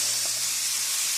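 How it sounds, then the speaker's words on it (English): Ground beef browning in a pan with onion and garlic gives a steady, even hiss throughout, with no voices over it. "Now you want to let your ground beef cook until it's brown all the way through"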